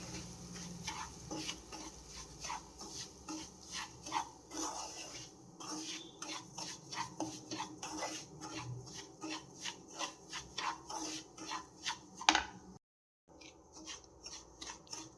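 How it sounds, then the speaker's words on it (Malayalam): Semolina (rava) being roasted in ghee in a pan for rava laddu, with a steady run of scraping, rubbing stirs, close and fairly quiet, ending in a brief gap of silence. "ഇനി ആ നെയ്യിലോട്ട് നമുക്ക് നേരത്തെ എടുത്ത് വെച്ച 1 കപ്പ് റവ ചേർത്ത് കൊടുക്കാം. ഇത് നന്നായിട്ട് റോസ്റ്റ് ചെയ്തെടുക്കാം."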